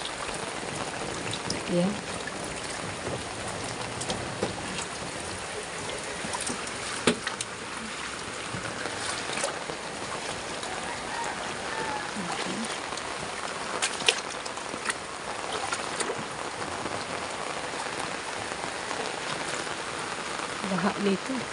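Steady heavy rain falls across floodwater during a typhoon and monsoon downpour, a constant hiss and patter lasting the whole stretch, with a person talking now and then underneath.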